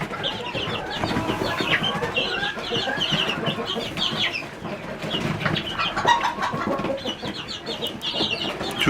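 Russian breed chicken chicks clucking and peeping continuously in a coop or brooder, a dense chorus of overlapping chirps and soft clucks at close range, with no voices.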